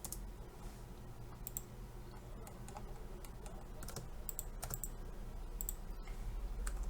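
Keys clacking on a computer keyboard while entering text in AutoCAD, a quiet, steady stream of clicks with occasional sharper taps, close and alone with no voices.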